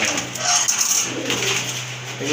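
Pink-beaked pigeons in a dealer's collection of birds for sale coo in low, steady murmurs close by, with a faint voice and some background noise mixed in.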